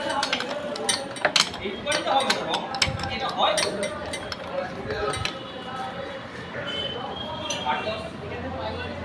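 A wrench loosens 17 mm handlebar nuts on a Hero Honda Ambition 135cc motorcycle, giving sharp metallic clinks and taps in uneven bursts, with someone talking over them.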